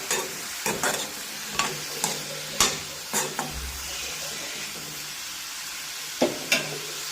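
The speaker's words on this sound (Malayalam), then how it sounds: "ഇനിയും ഇതിലേക്ക് ആവശ്യത്തിന് ഉപ്പും മഞ്ഞൾപ്പൊടിയും ഇട്ട് കൊടുക്കാം മിക്സ് ചെയ്യുക" A spoon scrapes and knocks against a pan as mushroom thoran with salt and turmeric is stirred, giving sparse, irregular clatters over a soft, low sizzle.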